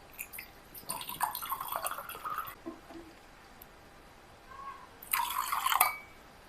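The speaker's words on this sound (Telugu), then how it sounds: "సో ఇప్పుడు దీంట్లోకి మనం కూలింగ్ వాటర్ కొంచెం తీసుకున్నాము" Cold water is poured into a glass of lemon sharbat with sugar in two short splashing bursts, the second louder, separated by quiet drips.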